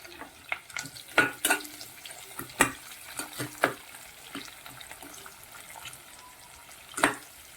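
Chopped onion added to hot green chilies in a pan sizzles softly while a utensil stirs and scrapes, producing scattered clicks and taps over a faint, quiet frying hiss.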